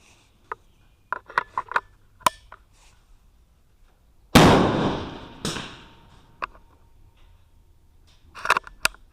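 A .22LR rimfire rifle, a Bergara BMR-X, fires one sharp shot at a club match range, with a long noisy decay after it. Fainter clicks and small handling knocks come before and after.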